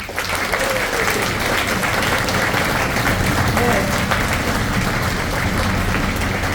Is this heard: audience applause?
yes